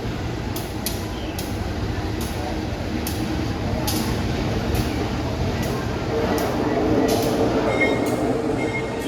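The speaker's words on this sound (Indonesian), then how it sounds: "Ada lokomotif seri CC203, lokomotif rail sprinter yang bentuknya aerodinamis pertama di Indonesia" CC203 series locomotive and train at an Indonesian railway station, a steady rumbling engine drone with metallic rail noise running throughout at close range, with faint speech in the background.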